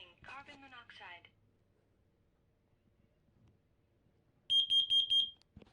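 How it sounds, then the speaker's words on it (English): Smoke alarm from a collection that includes a 1977 Sears detector, giving a spoken fire and carbon monoxide warning in a synthetic voice, then a near, loud, high rapid pulsing beep burst; talk before it. "Fire. Warning, carbon monoxide."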